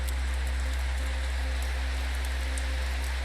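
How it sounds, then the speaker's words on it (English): Heavy rain pouring outdoors at a cold wilderness campsite, a steady dense hiss of falling water with a low constant rumble underneath, continuous and unbroken. "And of course, it's pouring rain now."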